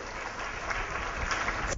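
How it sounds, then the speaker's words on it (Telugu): A church congregation clapping hands together in praise, a dense continuous patter of many palms heard at moderate distance for a couple of seconds. "చప్పట్లు కొట్టి దేవుని స్తుతిద్దాం"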